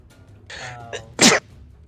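A single sharp, loud sneeze from a player at a tabletop role-playing game session, preceded by a short inhale and a brief catch of breath against quiet room tone.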